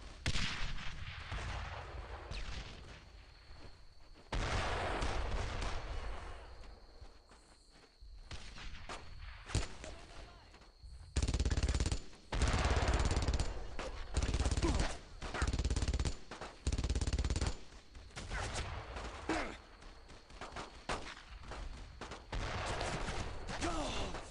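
Loud bursts of gunfire in the World War II shooter Brothers in Arms: Road to Hill 30, with repeated heavy automatic fire from a flanking machine gun position and battle noise between volleys.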